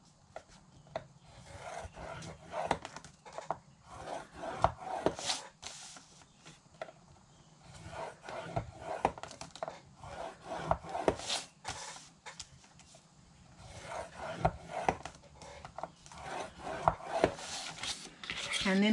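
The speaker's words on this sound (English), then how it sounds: "And then we're going to fold and burnish our scores." Scored paper for a tall craft box lid being folded and burnished, heard as repeated close, dry rubbing and rasping strokes with brief pauses, while a person talks over parts of it.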